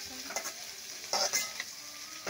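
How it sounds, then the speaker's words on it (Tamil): Broad beans sautéing in oil in a pan: a soft, steady sizzle with a few scraping stirs of a spoon, close and moderately loud, no talk. "இப்போ வந்து அவரைக்காய் சேர்த்தாச்சு, நல்லா எண்ணெயிலேயே வதக்கலாம்"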